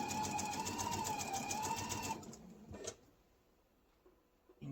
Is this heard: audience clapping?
no